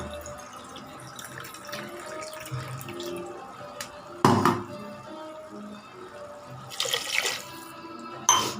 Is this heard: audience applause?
no